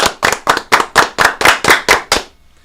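Ten sharp, evenly spaced hand claps from a few hosts in a studio, loud and close, coming in a quick steady rhythm and then stopping.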